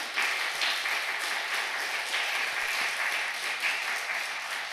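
A church congregation claps together during a Korean sermon, a steady, fairly close burst of applause with slight pulsing over a few seconds.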